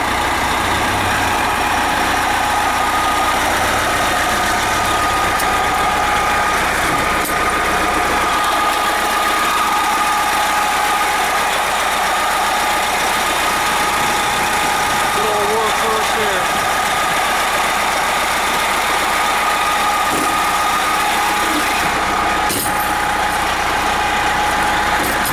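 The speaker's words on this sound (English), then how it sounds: "Let's get a load of the mill on this baby. This has the Detroit diesel," A Detroit Diesel Series 50 engine idles in a 1987 MCI 102-A3 47-passenger motor coach, giving a steady mechanical drone throughout with broadband noise and no pauses.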